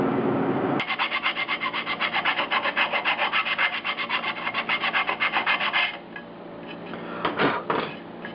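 A hand file rasps down welds on a fabricated steel mounting bracket for a 1976 Mazda RX-5 Cosmo. Rapid, even back-and-forth strokes run close and loud for several seconds, followed by a few slower separate scrapes.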